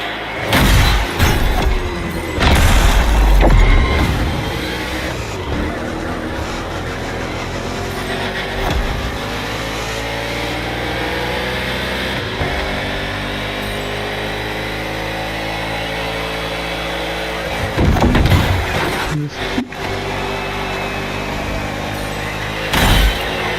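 A race car engine in The Crew Motorfest roars loudly and steadily, with its pitch rising through the gears, brief bursts and crashes at a few points, and no voices.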